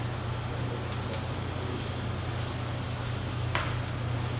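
Hydrated soy protein sizzles steadily in a hot pan, a dense continuous crackle and hiss with a faint low hum underneath and no talking.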